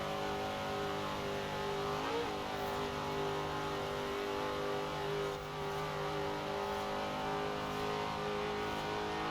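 Vintage Chevrolet Nova muscle car roaring at high speed through a Forza Horizon 4 race, with a steady loud engine drone, a brief gear-change dip and continuous revving throughout.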